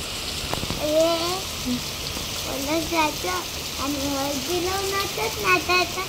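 Steady rain hisses outdoors at a wedding while people talk and call out over the constant wash.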